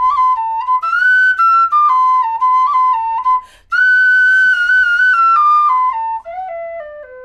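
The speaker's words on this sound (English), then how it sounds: "I'm going to play you the whistle now it's been wrapped" A tin whistle with its bore wrapped plays a clear melodic phrase of sustained, stepwise notes, pausing briefly midway before continuing and falling at the end, loud and close with no talking.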